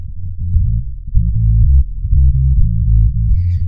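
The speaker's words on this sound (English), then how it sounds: "We can drive it so hard that it's eating up all of the sub frequencies and we're not getting" Heavily overdriven sub bass plays a thick, buzzing low line that swamps the kick drum, pulsing in a steady rhythm, loud and close and heard on its own.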